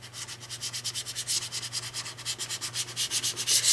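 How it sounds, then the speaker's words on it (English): Paper being rubbed down by hand onto a surface to push out bubbles before trimming the edges, producing a steady back-and-forth scraping with rapid, even strokes that stay loud and close throughout, with no talking. "you just need something that you can rub the paper down with without it gouging"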